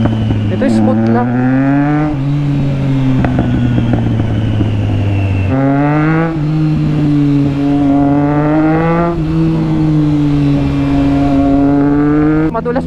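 A Triumph Trident 660 motorcycle on dual sport tires rides along a paved road, its engine loud and close, droning steadily and rising in pitch through several gear changes.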